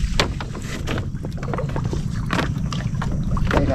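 A towed fishing boat moves on open water, with steady splashing and wind rumble and occasional slaps of water against the hull.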